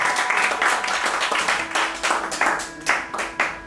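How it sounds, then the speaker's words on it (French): A small audience at an intimate concert venue claps in a close, uneven patter of individual hands, brief and lively, without talk. "Isabelle, que l'on peut applaudir très très fort"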